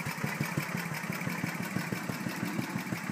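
The old Briggs engine of a 1973 Cushman Minute Miser running at a steady idle, a rapid even chugging putter that is close and moderately loud throughout.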